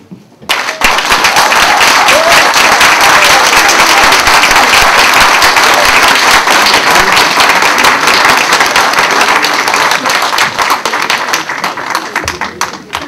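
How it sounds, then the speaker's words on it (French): A large crowd at a Front populaire ivoirien party meeting in France claps loudly and steadily for about twelve seconds, the dense applause starting abruptly and fading slightly near the end. "je voulais vous demander, pendant 30 secondes, d'applaudir le président Laurent Gbagbo."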